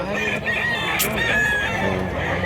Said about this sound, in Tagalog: Daghan ng manok mga idol